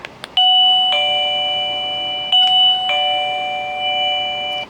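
Wireless call button chimes ring out loudly in an RV, a bright multi-tone electronic ding-dong sounding twice in close succession with sustained ringing tones, clear and near with no talk.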